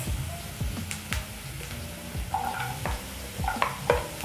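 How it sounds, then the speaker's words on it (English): Onions and carrots being stirred and cooked in a pan, a soft continuous sizzle with irregular scraping and clacking strokes of a spoon, close up with no talking. "stir and cook until soft. To my onions, I'm going to be adding my carrots."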